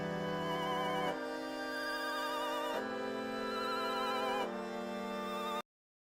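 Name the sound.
Chinese violin split and panned left to right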